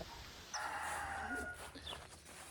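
A rooster crows once on a homestead, a loud, fairly close drawn-out call with chickens faintly clucking around it, and no talk over the birds.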